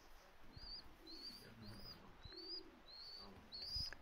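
A pair of Chinese owl fancy pigeons with a youngster, repeated soft calls in a steady series at close range over faint background noise.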